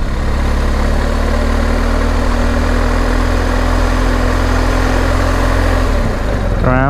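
A 2022 BMW 1250GS motorcycle engine idles steadily and close, a loud low rumble that holds even before shifting near the end.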